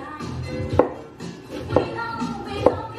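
A knife cuts through half an onion on a board, giving three distinct, evenly spaced chops about a second apart, with soft rustling between strokes.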